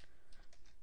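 Typing on a computer keyboard while entering a date as text in photo mug design software; a short run of faint, quick key clicks close to the microphone, with no talking.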